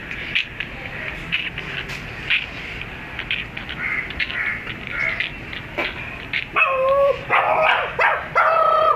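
A dog barks sharply again and again at close range, with some higher yips and whimpers mixed in, growing louder and more agitated toward the end.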